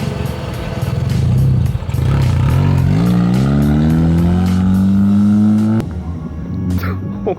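A car driven by a learner on a manual transmission revs and accelerates, the engine note climbing steadily for several seconds before a sharp drop as the clutch engages or the gear changes, loud and close, with voices faintly underneath.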